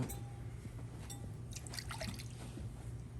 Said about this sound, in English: So I'm just gonna be pouring all this.